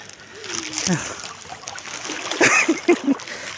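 Feet wading through floodwater in Chiang Mai, producing a few sloshing splashes, clustered toward the end, beneath people talking.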